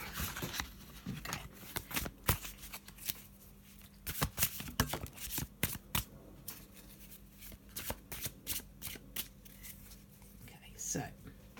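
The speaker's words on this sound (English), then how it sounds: "I'm just going to put down a couple of tarot cards to take us into this" Tarot cards shuffled by hand in a quiet room, with a rapid series of crisp riffling and slapping bursts that come in uneven clusters across the whole stretch, close and moderately loud.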